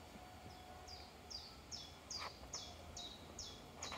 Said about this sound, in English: And the birds are cheeping.